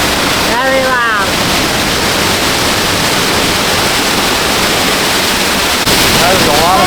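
Niagara Falls roaring from directly beneath the cascade, an overwhelming, constant broadband rush of crashing water, very loud and close, with a voice briefly heard over it.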